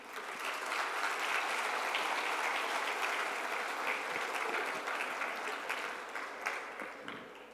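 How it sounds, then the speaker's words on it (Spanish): Sustained, dense applause from a symposium audience at a hemodialysis conference, loud and steady throughout before tapering slightly near the end, with no talking over it. "le agradecemos con fuertes palmas"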